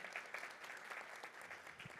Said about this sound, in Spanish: Le damos un aplauso, le agradecemos su presencia